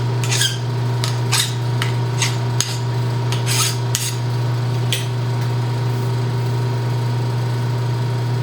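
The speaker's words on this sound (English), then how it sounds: "So I just want to get rid of any burrs that are gonna influence the part." A file rasps over a metal collet rack part to take off burrs, a series of short close strokes in the first half that then fade out. A steady machine hum runs underneath the whole time, and nobody speaks.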